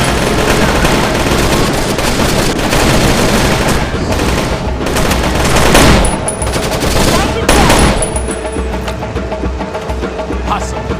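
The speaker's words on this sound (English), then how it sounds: "That's one of 3 anti-aircraft guns." Sustained heavy gunfire from an anti-aircraft gun in the video game Rainbow Six, dense and continuous with louder bursts around the middle and a faint voice under the din.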